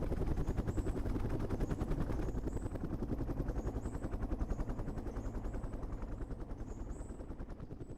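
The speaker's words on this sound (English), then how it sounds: "now we've got the QRF Reserves Chopper" Helicopter in the Vietnam War real-time strategy game Gates of Hell, a steady loud rotor chop throughout, mixed with rattling bursts of gunfire.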